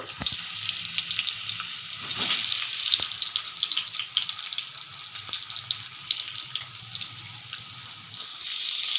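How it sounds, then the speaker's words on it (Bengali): Pointed gourd pieces sizzle in a little oil in a wok, making a steady hissing crackle throughout, close and moderately loud. "এদিকে একটা কড়াই বসিয়ে দিয়েছি আর অল্প তেল দিয়ে দিয়েছি। এখন পটলগুলো সব দিয়ে দেবো।"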